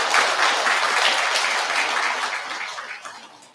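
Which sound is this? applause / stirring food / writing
applause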